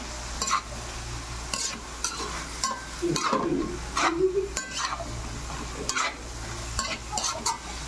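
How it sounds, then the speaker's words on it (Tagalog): Papaya and banana heart cooking in coconut milk for ginataan, stirred in a pan with repeated scraping and clinking strokes over a soft continuous simmering sizzle, close by. "imekos-mekos mo na yan, insan"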